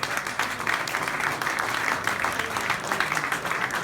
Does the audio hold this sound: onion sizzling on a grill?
no